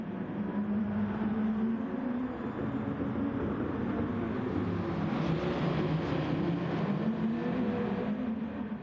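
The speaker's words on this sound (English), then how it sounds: "As they continue to head up the hill, it's allowed Ash Bichon to catch back up and join the battle again" Race cars in Gran Turismo climbing a hill in an online championship round, engines droning steadily and loudly with a broad continuous roar throughout, no voices present.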